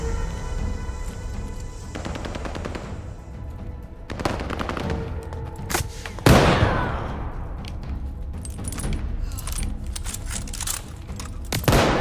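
Rapid bursts from an MG42 machine gun in Call of Duty: Vanguard, several loud, ripping strings of automatic fire broken by short pauses, mixed with sharp single shots and an impact boom partway through.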